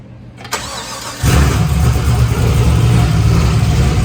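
A Hyundai Genesis engine cranks and catches, then settles into a loud, steady idle with a deep rumble that carries on to the end, close by, with no talk.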